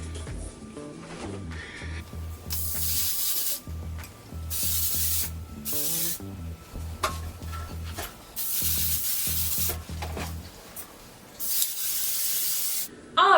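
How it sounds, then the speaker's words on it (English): Several long bursts of hairspray from an aerosol can, sprayed onto curled hair extensions, hissing loudly in repeated blasts with short pauses between them, alongside faint handling rustle. "once we have applied some hairspray"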